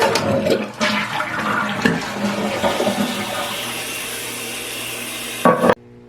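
A household toilet flushes once, a loud close rush of water swirling and draining for several seconds before cutting off abruptly.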